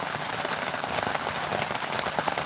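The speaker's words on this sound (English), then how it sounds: "We've been in a major rainstorm, high winds, heavy rain since 5 o'clock in the evening yesterday" Heavy rain pours down during a major rainstorm with high winds, a dense, steady hiss of drops pattering on surfaces all around, loud and unbroken with no voices.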